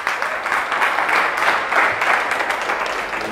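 An audience at a prophetic church gathering applauds and cheers for the Lord: a dense, steady wash of clapping and crowd noise that stays loud and even from start to finish.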